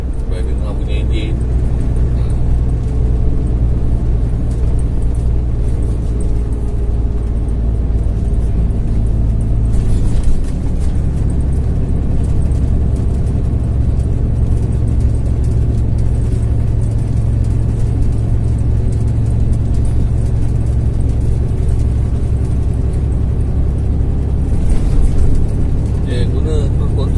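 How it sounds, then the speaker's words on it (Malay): Low steady diesel drone of a Volvo FM370 truck engine while driving, a constant rumble inside the cab with a slight shift in tone partway through, and someone talking over it at times. "supaya dengar bunyi enjin."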